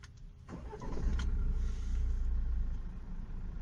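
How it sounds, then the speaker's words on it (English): A 2019 Tata Harrier XM SUV engine cranks and catches in neutral, then settles into a steady low rumble up close, with no talking. "I'm just switching on the engine of this 2019 Harrier XM over here"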